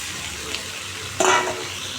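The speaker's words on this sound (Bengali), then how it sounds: "কালো জিরে শুকনো লঙ্কা ফোড়ন দিয়েছি তো ভাজা ভাজা করে নেবো" A sudden burst of sizzling as capsicum, onion and potato hit hot oil tempered with nigella seeds and dried chillies, loud for a moment then settling back into a steady low hiss.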